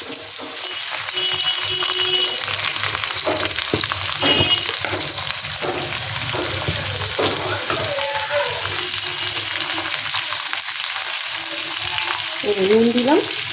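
Tomatoes fry in a pan with spices, a steady close-up sizzle with occasional stirring clinks and scrapes running throughout.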